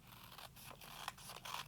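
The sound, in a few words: craft scissors cutting paper snowman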